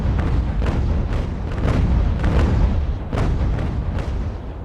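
Cannon fire against a ship in Ultimate Admiral: Age of Sail, a sustained broadside of repeated deep booms in a rough rhythm about every half second, loud and rumbling, blending into a continuous roar.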